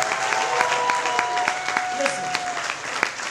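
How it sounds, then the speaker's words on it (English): A slam poetry audience applauds a poet after the judges' scores, steady crowd clapping with a voice and cheers carrying over it. "Applaud that, poet."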